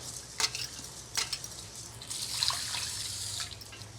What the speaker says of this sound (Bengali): নিয়েছি অল্প কটা চাল এই যে আট নম্বর পাকা চাল একটু ধুয়ে নেব ধুলে চাল পরিষ্কার হয়ে যাবে